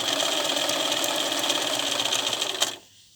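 Sewing machine stitching quilt binding at a 60-degree angle, a steady close whirring hum of rapid needle strokes running continuously before stopping abruptly near the end.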